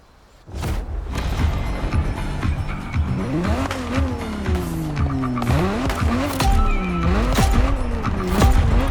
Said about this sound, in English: I'm talking about the Ferrari 365 GTB4, also known as the Ferrari Detona.